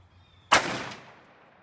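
A single sharp rifle shot from a Ruger SFAR chambered in 6.5 Creedmoor, loud and close, with a short echoing tail that fades over about a second.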